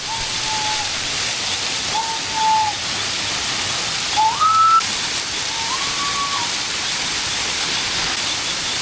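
A waterfall roars as a steady, broadband rush throughout, close and loud, with a few faint whistled bird-like notes rising above it.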